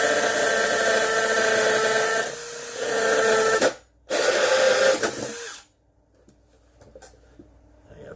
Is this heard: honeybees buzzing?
no